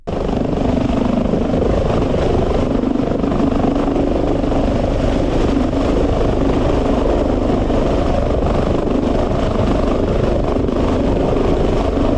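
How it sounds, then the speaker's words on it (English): A helicopter's steady rotor thrum and engine drone, loud and close, holding constant throughout with no voices. "maneuvering a helicopter onto the edge of a cliff as if parking it"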